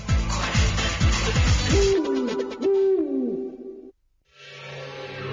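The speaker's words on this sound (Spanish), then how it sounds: "La noche es para los búhos" Owl hooting in a Spanish radio advertisement for Licor 43: a few sustained, wavering hoots in the middle, set between music or effects and a short silence, with no talk.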